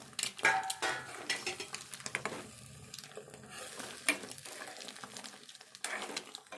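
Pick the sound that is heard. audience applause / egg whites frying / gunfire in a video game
egg whites frying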